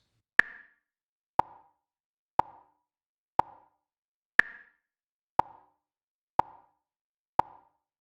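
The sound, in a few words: beat clicks at 60 BPM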